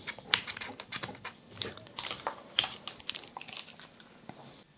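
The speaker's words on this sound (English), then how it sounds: "you want to remove the tape holding down the antenna" Tape peeled off the antenna wire of a Traxxas Slash RC truck: close, crackly tearing and crinkling in short, uneven bursts with small gaps between pulls.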